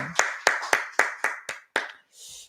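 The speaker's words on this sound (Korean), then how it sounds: "우리 하나님께 영광의 박수 올려드리겠습니다." Seven sharp, evenly spaced hand claps ring out in a quiet church, close and distinct with short decays between them, followed by a brief soft sound at the end.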